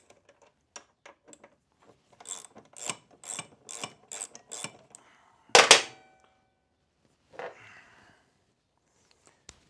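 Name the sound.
12mm socket wrench loosening motorcycle front brake caliper bolts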